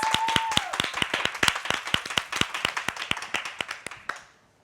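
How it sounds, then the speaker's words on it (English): Sparse hand clapping from a small audience at an annual meeting of a Delaware adolescent program, distinct individual claps in a loose rhythm that thin out and stop near the end, with a brief tone at the start. "let's give her a round of applause"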